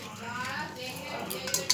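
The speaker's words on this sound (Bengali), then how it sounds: "আমি একটা হাঁড়ি নিলাম" A metal cooking pot is picked up and handled in a kitchen, giving soft scrapes and then a couple of sharp, close clinks near the end.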